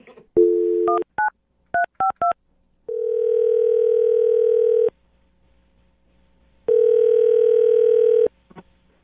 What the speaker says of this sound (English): we'll dial the phone number right now and see if we can get him on the phone